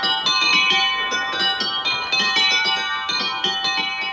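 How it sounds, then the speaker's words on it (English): Brand new set of eight small bells cast in Bath, rung in an isolated Northumberland barn, a continuous close, bright cascade of overlapping clear tones struck in quick succession. "brand new set of 8 bells, cast at a foundry in Bath and just installed in this isolated Northumberland barn"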